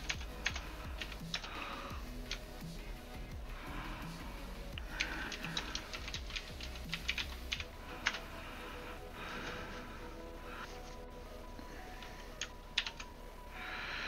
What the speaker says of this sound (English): What is that you're typing?